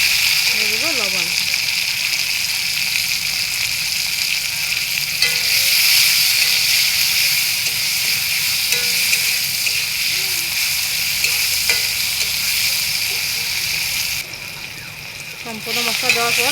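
Spices and chopped pointed gourd fry in a pan with a continuous, moderately loud sizzle and hiss. Occasional stirring scrapes sound through, and a voice talks over the cooking near the end.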